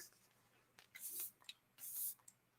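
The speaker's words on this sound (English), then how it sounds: "I'm going to use my Hourglass spray" Hourglass setting spray misted onto a face, two or three short, soft hissing bursts close to the microphone in a quiet room, with faint rustling between them.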